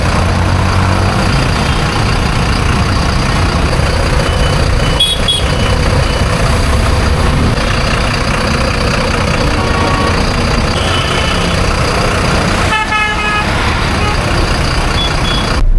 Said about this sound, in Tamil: ஏன்னா வெளியே நிறைய டிராஃபிக் இருக்குது, வண்டி நிறைய வந்து போயிட்டுருக்கு.